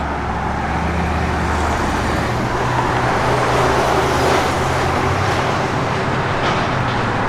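1960 Chevrolet Impala fin car with a 468 big block being driven, a continuous loud engine and road roar with no voices.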